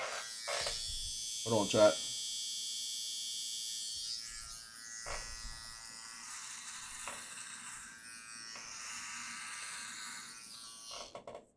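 An electric shaver buzzes steadily while shaving off a beard, a close continuous hum broken by brief pauses, with someone speaking over it at times.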